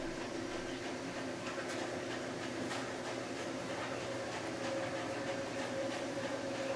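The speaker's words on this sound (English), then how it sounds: "Now the background noise you hear, that's just my dryer." A home clothes dryer runs in the background with a steady, low rumbling drone and faint rhythmic clicks, quiet and unbroken throughout.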